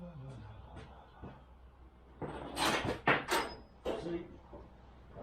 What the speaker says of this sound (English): If I close the door you can see even better.